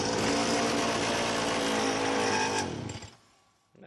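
A gassy, smoky X-9 pocket bike engine runs loudly at a steady high idle with the choke down, then bogs and dies away into near silence before a brief final sputter.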